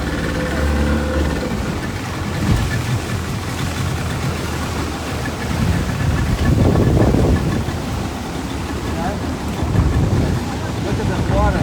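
A boat runs across open water on a goat head boat ride, with heavy wind buffeting the microphone over a constant rush of engine and waves. The roar swells and eases in gusts, and faint voices blur into the noise.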